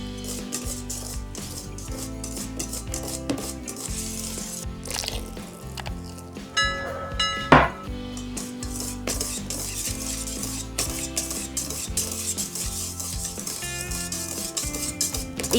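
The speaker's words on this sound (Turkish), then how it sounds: "Bir çay bardağı sıvı yağ, 1 su bardağı süt ekleyip karıştırıyoruz." Cake batter being stirred after oil and milk are added for a peach crumble cake, heard as close utensil clinks and scraping against a bowl in a busy, uneven rhythm, with one sharper knock midway.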